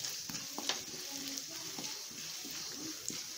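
Ginger, pepper and cumin fry in a pan with a steady close sizzle, while light stirring clicks and scrapes surface now and then.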